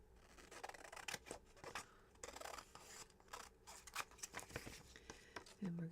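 Scissors snip and trim fabric close up in quick, irregular cuts with rubbing and scraping between them, under quiet talking.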